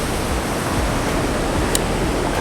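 Steady broadband wash of ocean surf on a beach in Bali, a continuous rushing roar with no distinct breaks, heard alone at even loudness.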